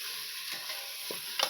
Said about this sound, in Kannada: ನಾನು 2 ಪಾವು ಅಕ್ಕಿ ಹಾಕೊಂಡು ಚೆನ್ನಾಗಿ ಮಿಕ್ಸ್ ಮಾಡ್ಕೊತಾ ಇದ್ದೀನಿ